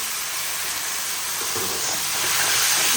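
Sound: noodles stir-frying on high flame

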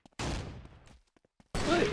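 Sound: machine gun fire in video game Havocado

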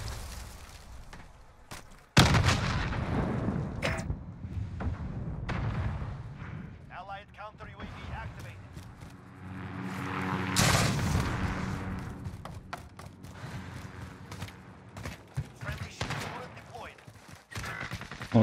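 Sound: gunfire in the video game Modern Warfare

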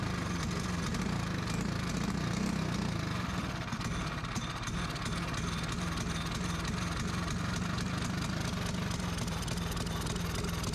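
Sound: go-kart engine starting and stalling

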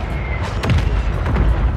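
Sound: mortar explosion in the video game Warzone

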